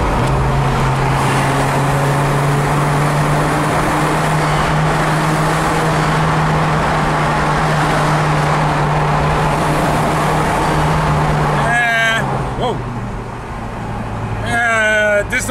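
Hyundai Genesis Coupe driving through a tunnel, its exhaust a loud steady drone that holds for about twelve seconds before the tone drops and brief voices cut in near the end.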